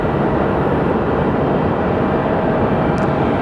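A United airliner in old Continental livery at Sky Harbor Airport, heard as a loud, steady broadband jet roar that fills the whole stretch with no letup.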